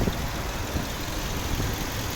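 Warmed-up 1.6 MPI petrol engine of a 2008 Audi A3 automatic idling close by, a steady, even hum without talk.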